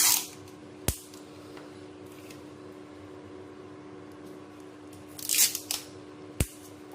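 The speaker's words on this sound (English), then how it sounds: "I'm just trying to readjust my scissors" A few sharp, quiet snips of scissors spaced apart over a low background hum, with a short cluster of snips near the end.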